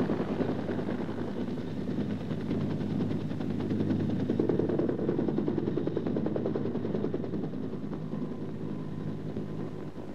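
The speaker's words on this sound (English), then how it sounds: "A combined machine gun and rocket run on an area smashes the hide-and-seek tactics of the guerrilla enemy." Rapid bursts of machine gun fire from a UH-1B Huey armed helicopter rattle over its droning engine, a continuous dense clatter at moderate distance.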